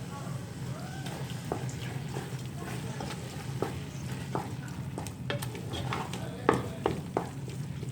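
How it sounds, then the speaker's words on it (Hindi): Carrot halwa stir-fried over a high flame in desi ghee, a low sizzle under repeated scraping and clacking of a spoon against the pan, with a voice talking throughout. "थोड़ा सा इस पर भून लेंगे, क्योंकि हलवे की भुनाई जितनी अच्छी होगी उतना ही मज़ेदार हलवा होगा।"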